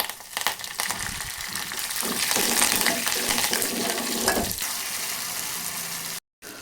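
Dried red chilies, finely chopped garlic and curry leaves sizzle in hot oil as a tempering for Andhra-style amaranth dal, a steady loud frying hiss with crackling bursts and a brief dropout near the end; nobody speaks.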